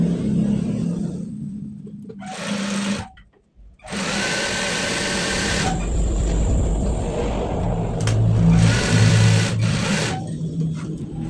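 A sewing machine stitches a trouser pocket in long continuous runs of rapid mechanical whirring, cut by a brief pause, then resuming loud and close with slight speed changes.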